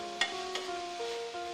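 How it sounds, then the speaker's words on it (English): Chopped vegetables are sautéed in a pan, giving a quiet steady sizzle with two brief scraping stirs near the start. "Chop, then sauté the vegetables."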